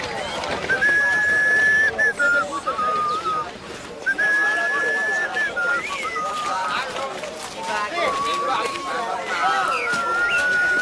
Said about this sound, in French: Et tu sifflotes